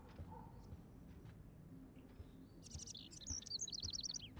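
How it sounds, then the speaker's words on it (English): Bird chirping indoors inside a house in the video game Life Is Strange, a trapped bird giving quick high tweets that build into a rapid trilling run over low room noise, no voices. "Can you help me get this bird out of here?"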